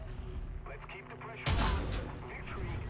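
A loud tank cannon blast from War Thunder breaks in partway through, a heavy boom with a rumbling tail that rings over steady engine drone and battle noise.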